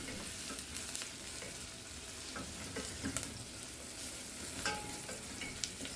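Grated coconut fries in oil over a low flame for puli inji and gets stirred often, making a quiet, steady sizzle with light scraping and crackles close by.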